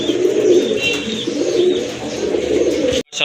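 Female pigeons coo softly and repeatedly in a loft, low throaty calls rising and falling close by, with faint chirps from other birds in the background.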